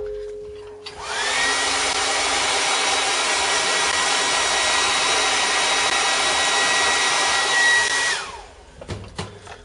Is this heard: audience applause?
no